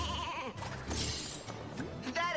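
Sheep bleats ring out in the Skylanders SuperCharged Skystones card game, a few short wavering cries mixed with crashing game effects and busy background sound.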